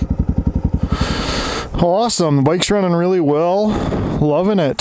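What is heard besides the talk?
dirt bike engine running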